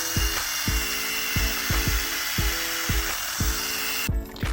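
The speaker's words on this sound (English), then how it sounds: "So we'll start with a good grind." A cast weight plate is being ground during restoration. A constant high, hissing grind runs throughout, with regular rhythmic strokes against the metal surface, close and fairly loud.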